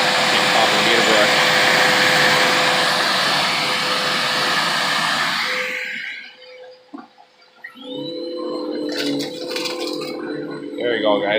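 A Bissell Lift-Off vacuum cleaner runs loud and steady with a tonal whine for about six seconds, then shuts off. Softer mechanical noises and clunks follow.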